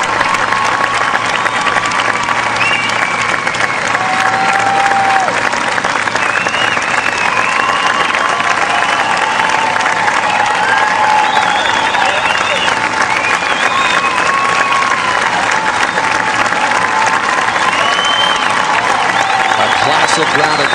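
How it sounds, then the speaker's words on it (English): Golf gallery applause and cheering at the final round of the 2006 U.S. Women's Open, a large outdoor crowd clapping loudly and continuously, with scattered shouts and whistles rising above the steady roar. "You enjoy some of the applause as well."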